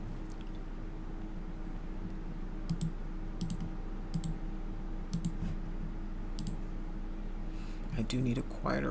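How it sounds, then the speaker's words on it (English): Loud, clicky computer mouse clicks in sharp, irregular bursts, a few spaced taps then a quicker cluster near the end, over a steady low hum with some background voice. "I do need a quieter mouse. It's very loud, clicky."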